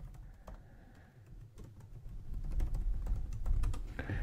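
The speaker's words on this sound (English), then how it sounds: "we're going to type in our username and password that you had on the last Portainer" Fingers tapping out a username and password on a computer keyboard at a login screen, a run of quick irregular clicks that grows slightly louder and busier toward the end, with no voices.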